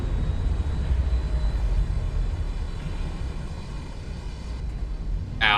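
A propeller plane's engine drones steadily in the Space Engineers game, a continuous loud rumble that holds at a constant level from start to finish with no talk over it.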